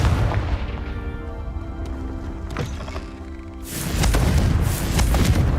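Confringo blasting curse explodes in a Harry Potter video game: a low rumbling buildup gives way to a loud, broad burst of blast noise in the final seconds, with no speech.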